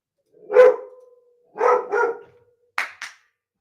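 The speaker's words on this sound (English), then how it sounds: "Can't be having that barking in the background." A dog barks nearby in separate bursts: one bark, a quick pair, then two sharper short yaps, with silence between.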